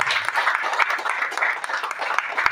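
Congregation clapping together during a church worship service, a dense, continuous wash of applause from many hands filling the room at a steady level.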